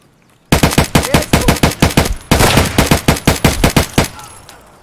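Loud AK automatic rifle fire in the game Escape From Tarkov, two bursts of rapid, sharp shots with a brief gap between them, close and punchy, then a short fading tail.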